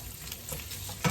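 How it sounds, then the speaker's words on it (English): Bacon cut into pieces sizzles steadily in a pan, with a soft stir and a louder clatter near the end, and no voices. "And I'm just getting that frying."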